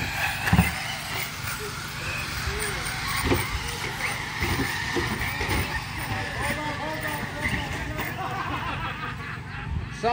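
High-speed RC off-road cars race around an oval dirt track, their small motors whining and buzzing continuously with passing surges, while a crowd murmurs in the background.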